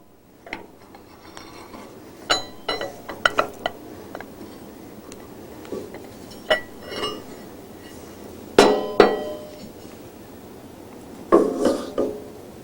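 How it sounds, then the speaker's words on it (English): A reamer is turned by hand through a DX bearing in a steering knuckle clamped in a vise during Hendrickson AIRTEK service work, producing sparse close metallic clicks and clinks, some sharper, scattered irregularly over quiet. "Rotate the reamer evenly, letting the weight of the reamer itself carry through the DX bearing."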